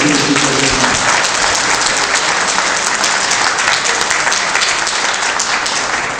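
Sustained audience applause at a public political meeting, dense and steady, loud and close throughout with no breaks and no talk over it.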